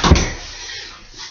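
A door bumps and swings open with a short knock-like clatter at the start, followed by a faint creaking rustle fading off, no speech.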